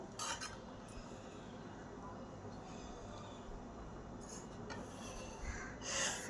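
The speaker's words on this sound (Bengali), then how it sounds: "এবার চিকেন আর পেঁপেগুলো একটা পাত্রে তুলে নিলাম" Boiled chicken and papaya being lifted into a bowl: soft scraping and clinking of a utensil against cookware, faint and intermittent over a steady kitchen hiss.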